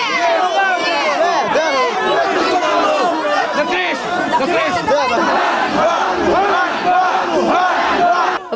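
A dense, loud protest crowd in Kolomyia picketing outside the police station, many voices shouting and chanting together in a continuous roar throughout.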